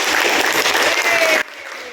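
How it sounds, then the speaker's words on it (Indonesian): A burst of clapping from a group, dense and fairly loud, cutting off abruptly after about a second and a half. "beri tepuk tangan pada teman-teman"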